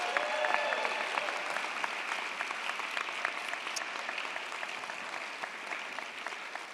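A crowd at a public policy school commencement ceremony applauds graduates' projects with sustained, even clapping that holds steady and slowly tapers, no voices over it.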